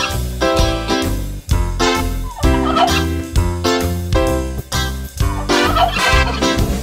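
Cartoon turkeys gobble in rapid, warbling bursts over a busy, loud children's song backing, the calls repeating in rhythmic clusters across the music.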